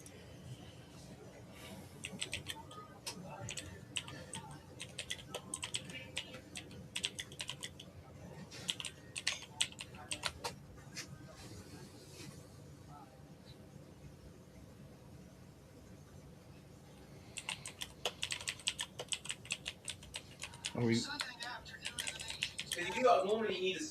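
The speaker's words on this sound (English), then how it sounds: "he's typing back to you now, Joe." Computer keyboard typing comes in bursts of quick, faint clicking, pausing midway and then resuming faster near the end, with voices talking under it.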